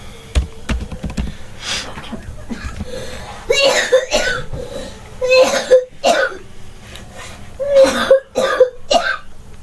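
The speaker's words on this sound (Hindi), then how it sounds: "थोड़े बच्चों को खांसी हो रही है" Several coughs and throat clearings from different children break out in a row over a steady murmur of classroom noise, fairly close.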